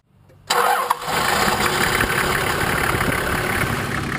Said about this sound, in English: I'm going to put the camera down next to the engine just so you can see how much vibration it makes on startup and running